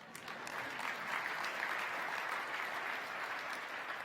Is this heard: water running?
no